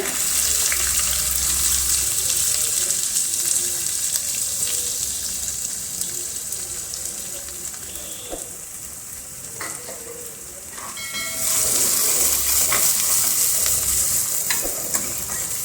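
Chopped onions for whole masoor dal sizzle steadily in a pan over low gas, a continuous close hiss with occasional stirring scrapes; the sizzle dips briefly midway and then swells back.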